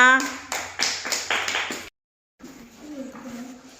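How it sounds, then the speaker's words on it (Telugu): Young grade-school children in a classroom clapping for a classmate, several bursts of rhythmic group clapping, then a short silence and a teacher's voice speaking. "క్లాప్స్ కొట్టండి యష్మిత కూడా"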